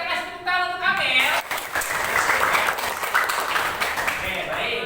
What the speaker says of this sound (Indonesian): Oke, kita kasih tepuk tangan untuk Amel.